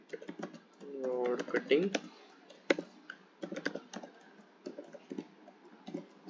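Code being typed on a computer keyboard, crisp close key clicks in uneven bursts and single taps, with a brief stretch of speech partway through.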